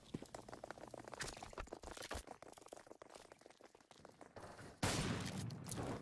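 Gunshots during a replay of a competitive shooter match, a rapid string of sharp cracks and crunching bursts, then a loud sustained blast near the end, fairly quiet overall, with no talking.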